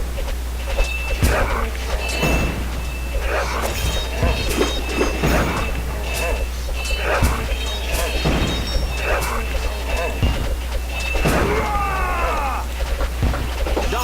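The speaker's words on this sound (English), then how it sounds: "Lots and lots of doggies." Many dogs barking and yipping in the tower-defense video game Kingdom Rush Frontiers, repeated short barks amid game effects, thumps and crashes, with someone talking over the action.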